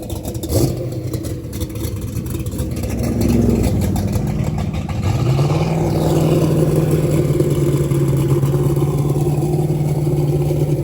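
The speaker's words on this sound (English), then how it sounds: "We got some more race cars rolling by." Race cars at a drag racing event roll past with engines rumbling and revving. The tone rises and shifts as they move by, loud and sustained, over steady background noise.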